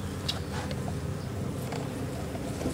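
Honeybees buzzing at a beehive, a dense continuous drone of many insects close by, steady and fairly loud with no talking.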